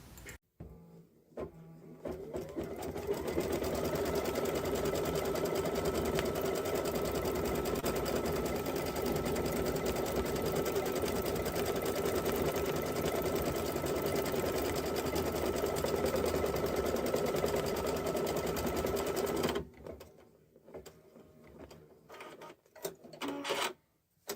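Embroidery machine stitching a mug rug applique in the hoop, heard as a fast, steady mechanical whir and needle chatter running for about seventeen seconds, close and even, then stopping with a few clicks.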